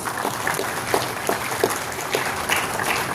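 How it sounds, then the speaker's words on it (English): A conference audience claps steadily throughout, a dense patter of many hands at moderate volume with no voices. "Dr. S. Siddharth Sir, with a big round of applause."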